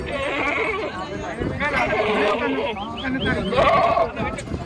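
A Beetal goat bleats repeatedly, close and loud, with wavering cries over a murmur of people talking nearby.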